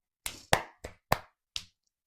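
Five separate hand claps, sharp and fairly close, in an uneven rhythm with a short pause before the last, each decaying quickly into silence.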